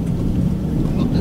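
A violent thunderstorm with strong wind, heard from inside a car on a dashcam in Grimes, Iowa, in August 2020, makes a dense, loud, continuous low rumble and roar with no pauses.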